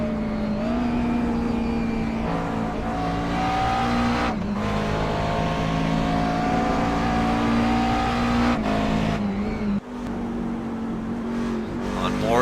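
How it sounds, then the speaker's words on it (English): Multiclass race cars at Watkins Glen roar through the carousel. A continuous, layered engine drone swells and dips as cars pass, with a brief break in the noise partway through. "Down into the carousel, there is David Shutt in the 8 car running in 8th."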